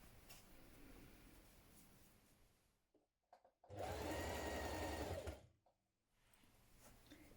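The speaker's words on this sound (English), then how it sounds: "we're going to stitch that in place" A sewing machine stitches a seam on a hooded jacket in one close, steady whirring run of about a second and a half between quieter handling noise, with no talk.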